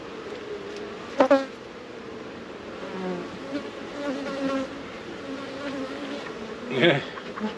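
Honey bees drone steadily from an opened backyard hive in Florida during a colony inspection, a continuous close buzz with a few sharper flyby swells and faint handling noises, no speech.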